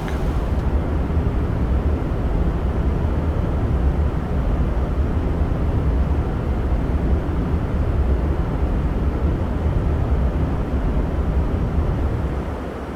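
Boeing 737-800 engines spooling back to idle during descent in the X-Plane 11 flight simulator, a steady broad loud roar holding constant throughout with a slight drop at the end, no voices.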